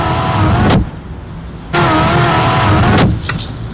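Electric sunroof of a 1995 Renault Megane coupé tilting open, a steady motor whir running in two bursts of about a second each with a short pause between, close and loud.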